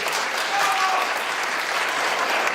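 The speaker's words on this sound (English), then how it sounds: "give her a nice big round of applause for volunteering to come to our school" Schoolchildren clap loudly and steadily for a volunteer visitor at a school presentation, a thick, even wash of group applause close by with a few voices mixed in.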